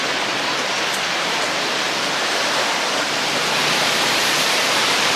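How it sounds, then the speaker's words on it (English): Heavy rain pours steadily in Singapore's Chinatown, a dense, continuous hiss of downpour on street and surfaces, loud and unbroken throughout with no voices. "Let's see how long this rain lasts."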